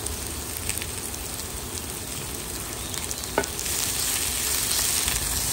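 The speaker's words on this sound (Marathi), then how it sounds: "तर एका कायलीन इल्लेशे तेल घालून कांदो तळसून घेता, तेज्या वांगडा आले आनी लसूण घातला।" Onion, ginger and garlic frying in oil in a pan, a steady close sizzle with fine crackle throughout, one brief sharp clink partway, and the hiss growing slightly louder toward the end.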